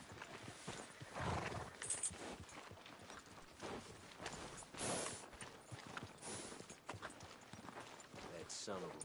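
Horse hooves clip-clop at a walk in the Red Dead Redemption 2 video game, quiet irregular thuds beneath characters' talking.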